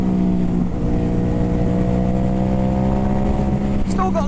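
A Ducati Hypermotard 950 SP motorcycle fitted with an aftermarket exhaust and ECU tune is held at steady high revs in fourth gear, a loud, continuous, gently rising engine drone heard close from the rider's position.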